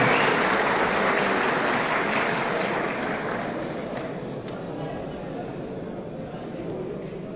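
An indoor audience at a youth gathering event in İnegöl applauds a speaker called to the podium, dense loud clapping that gradually fades over several seconds.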